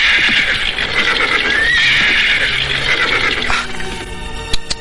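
A horse neighs in a long, loud whinny as it is reined to a stop, followed by a few scattered knocks and a quieter tail.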